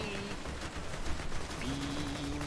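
Rapid video-game gunfire in Borderlands 2, a dense, continuous barrage of shots with electronic tones running under it, loud and steady throughout.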